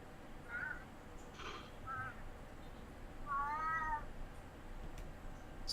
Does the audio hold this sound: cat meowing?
yes